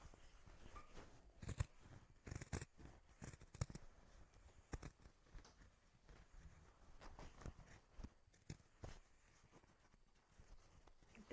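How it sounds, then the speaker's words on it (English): Scissors trimming fabric while sewing a bag, a quiet series of irregular snips and crisp cuts, close and soft, with a few rustles of cloth between them. "I'm going to trim the fabric like we did for the front."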